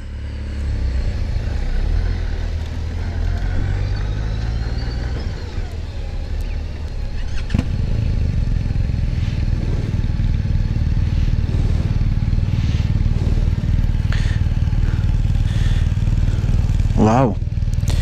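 Honda Goldwing motorcycles at the Great St Bernard Pass, engines idling and rumbling close by as the bikes park, with a rising rev near the end and people talking over the steady motor noise.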